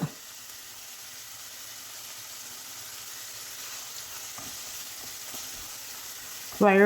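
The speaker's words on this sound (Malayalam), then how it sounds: "ഇത് പെട്ടെന്ന് വഴന്ന് കിട്ടാൻ ആവശ്യമായ 1 ടീസ്പൂൺ ഉപ്പിട്ട് കൊടുക്കുന്നുണ്ട്." Brinjal pieces sautéing with salt in a pan, a steady, quiet sizzle holding throughout, with a few faint stirring scrapes and a louder clatter at the very end.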